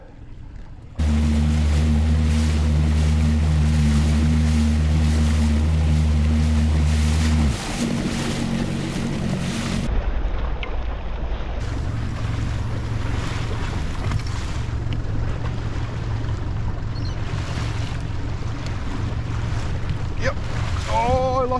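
Fishing boat on Moreton Bay motoring into the wind over choppy waves, with a steady close engine drone and strong wind buffeting and water wash throughout.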